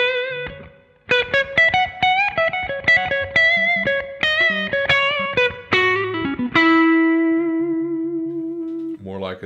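Distorted electric guitar through a Boss Tone Capsule 1x12 standard cabinet simulation plays a melodic phrase of picked notes, ending on a long sustained note, with a boxy, single-speaker cabinet tone.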